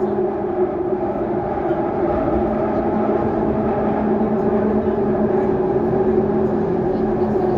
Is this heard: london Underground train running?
yes